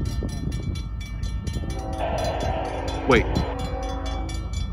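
A long CSX freight train rumbles past at close range with a steady low roar and rhythmic wheel clatter, a brief horn-like tone rising partway through, and a person speaks briefly over it.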